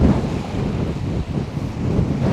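Wind gusting across a rocky shore on the far side of a Jamaican island, a dense low roar buffeting the microphone with surf mixed in, swelling and dipping briefly midway.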